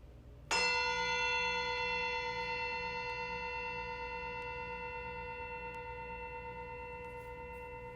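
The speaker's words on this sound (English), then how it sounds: "when I ring the bell, I want you to focus on that anchor breath until you no longer hear the bell" A single meditation bell is struck once during a yoga session, ringing out with a bright metallic tone whose sustained overtones slowly decay over several seconds in an otherwise quiet room.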